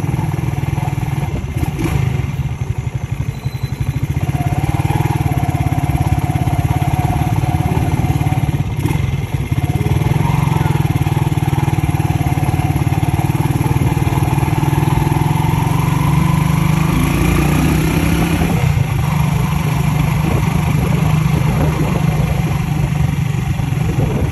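A motorcycle engine runs steadily and loudly throughout, a rough, continuous close-up drone with slight rises in revving and faint rattles.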